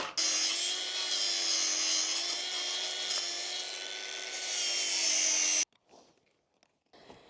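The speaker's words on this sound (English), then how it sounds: "I've realised I've got a reciprocating saw, which is perfect for this" A reciprocating saw cuts through wood while a gravel base for a hot tub is prepared outdoors, giving a loud, steady buzzing rasp for about five seconds before it stops abruptly, followed by a few faint clicks.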